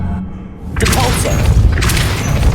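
A Depulso spell cast in Hogwarts Legacy bursts out as a loud, heavy boom with a rushing blast that lingers, following a quieter stretch.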